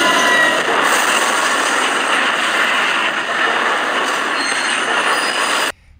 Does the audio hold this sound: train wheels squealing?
yes